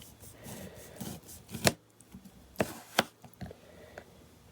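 A not very sharp knife cutting through a lime, several sharp close cuts and thuds against a board spaced irregularly, with soft rubbing handling noise between them and no talk.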